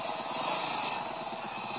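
Small single-cylinder engine of a bike ambulance built on a Bajaj V motorcycle, running with a steady, buzzing pulse at close range with no talk over it.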